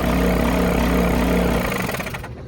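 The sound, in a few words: Hegner scroll saw test start, blower and motor running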